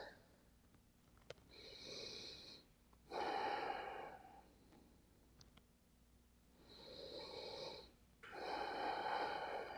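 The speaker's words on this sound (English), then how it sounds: "Give me 3 more deep breaths." Slow, deep breaths during a shoulder and lat stretch, three audible breathy exhales spaced a few seconds apart, close and fairly soft, with quieter inhales between.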